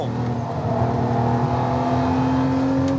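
A Lamborghini Murcielago LP640 V12 holding a steady high-speed drone on a Las Vegas race circuit, close and constant without letup, with a faint whine of tires and wind in the background.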